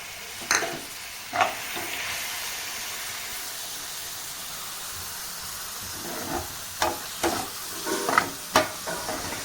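Tomatoes going into a pan for a dhaba-style paneer curry, with a steady low sizzle and a few sharp stirring scrapes near the start and a cluster near the end, no voices.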